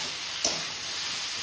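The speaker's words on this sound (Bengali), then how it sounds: "সবজি ভাজা হচ্ছে।" Mixed vegetables fry in a pan: broccoli, cauliflower, onion, carrot, beans, potato and cabbage. A steady, close hiss holds throughout, marked by a single small crackle, and no one speaks.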